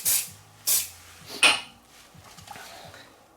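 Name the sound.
spraying adhesive onto paper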